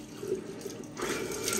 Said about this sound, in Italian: sciacquiamoci il faccione con acqua tiepida.